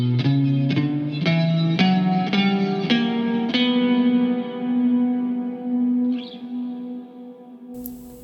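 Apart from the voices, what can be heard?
guitar playing B harmonic minor scale with effects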